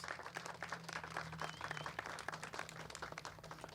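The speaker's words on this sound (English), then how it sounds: "let's give Tanya and Fifth Third Bank, David, another round of applause" Audience applause at a community event for affordable housing in vacant Osborn duplexes, honoring Tanya and Fifth Third Bank; a steady patter of many hands clapping, moderately faint and continuous for a few seconds.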